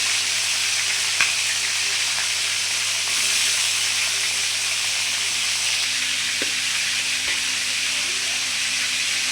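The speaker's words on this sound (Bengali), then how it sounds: "এই তো মাংস ফ্রাই হয়ে গেল। একদম পারফেক্টলি হয়ে গেছে।" Meat and onions frying in a pan make a loud, steady hiss of sizzling oil, close and continuous, with a few faint knocks of a utensil.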